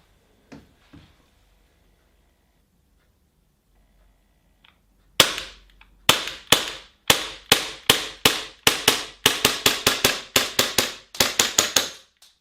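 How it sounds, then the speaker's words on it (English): A Tokyo Marui Glock 19 gas blowback airsoft pistol fires a rapid string of sharp, loud pops after a few faint clicks, each shot snapping close with a short metallic slide clack. "When it comes to shooting this pistol, the first shot alone will tell you everything you need to know."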